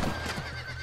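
A horse in the western video game Red Dead Redemption lets out a short, loud whinny with faint hoof clopping beneath it, close and alone without talk.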